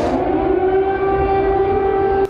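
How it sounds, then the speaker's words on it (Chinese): An air raid siren sounds over Kyiv, the Ukrainian capital, on a Saturday morning, a loud, steady wailing tone that holds level throughout with no voices. "乌克兰首都基辅周六早上9点，空袭警报再次大响"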